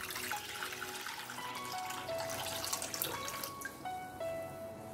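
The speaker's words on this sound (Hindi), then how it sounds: "750 ml पानी डालेंगे" Water, 750 ml of it, pouring into a large kadhai: a steady rushing splash with ringing metallic tones, moderately close, no talking.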